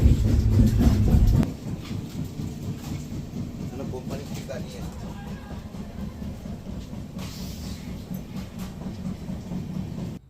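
Steady rumble of a moving train heard from inside the carriage, with a low continuous roar and faint rhythmic rail clatter; a louder burst at the start settles into an even, ongoing hum.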